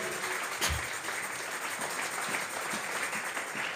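A church congregation applauding steadily, a dense wash of clapping that holds at an even level throughout, with no one speaking over it.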